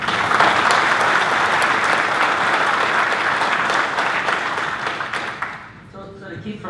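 An audience applauds at a 2016 Flagler County sheriff debate, loud dense clapping that carries for several seconds, then thins out and gives way to a voice speaking at the end.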